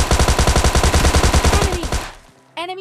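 In PUBG Mobile Lite, a Thompson SMG fires a loud, rapid automatic burst lasting about two seconds. The shots fade into silence, then a brief tonal game sound follows.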